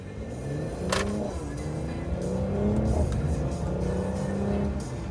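A 2017 Mercedes-AMG C43 engine accelerates in Sport Plus mode, rising in pitch through a gear shift, heard steadily from inside the car with no talking.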